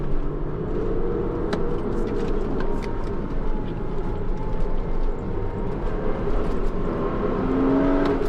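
A Porsche Cayman S naturally aspirated flat-six engine revs hard and steadily with a rough, throaty drone that rises and falls over several seconds, close by, with no voices.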